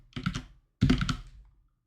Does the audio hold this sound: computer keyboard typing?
yes